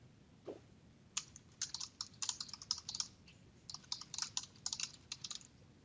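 Someone types order-form details on a computer keyboard: quiet, close key clicks in quick irregular bursts with brief pauses, alone with no talking.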